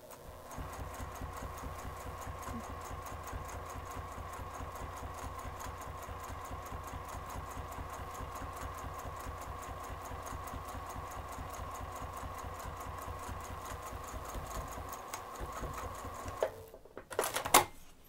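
A sewing machine stitches a zipper panel onto a Baker Street bag, running at a steady rapid hum and clatter close up for about sixteen seconds before stopping with a few clunks.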